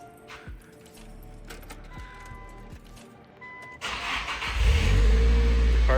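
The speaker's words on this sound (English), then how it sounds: "The car finally starts right up." A Nissan S15 Silvia cranks on a newly fitted starter and fires up, going from quiet clicks and whirring to a loud, close, rumbling idle.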